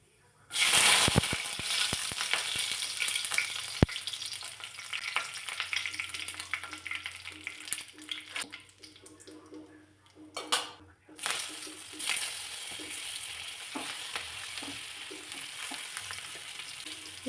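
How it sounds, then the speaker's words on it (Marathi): Mustard seeds and curry leaves sizzle and crackle in hot oil in a kadai while preparing stuffed brinjal, a steady frying hiss with sharp pops, occasional stirring and utensil clinks, and no talk. "कढईमध्ये तेल गरम करायला ठेवलं, तेलामध्ये मोहरी घातली, थोडासा कढीपत्ता घालायचा."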